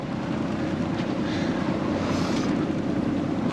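A sailboat's engine pushes the boat while it is maneuvered in a tight spot, giving a steady, loud, broadband drone with constant rumble and no pauses throughout.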